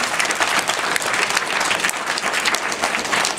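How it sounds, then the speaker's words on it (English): A school presentation audience claps in a loud, even round of applause that carries on without a break. "So, yeah, round of applause."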